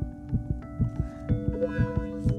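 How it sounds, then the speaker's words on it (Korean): A fast heartbeat: about ten soft, rhythmic low thumps in quick succession over a faint sustained hum, with no voices. "심장 박동이 빨라지게 됩니다."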